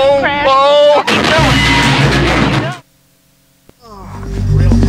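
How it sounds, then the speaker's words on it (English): Simulated incoming fire inside a virtual Abrams tank simulator at Fort Knox: a loud burst of booming, rumbling impact noise follows shouted voices, then a brief silence and a low thump before the heavy rumble returns. "We're taking fire!"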